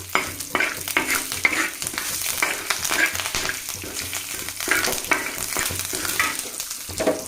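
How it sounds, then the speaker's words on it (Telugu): Curry leaves and cumin seeds sizzle in hot oil in a home kitchen, a steady crackling fry with stirring scrapes throughout, close and fairly loud, no talking. "సో నెక్స్ట్ ఇప్పుడు కరివేపాకు వేసుకుందాం ఆ తర్వాత జీరా వేసుకుందాం"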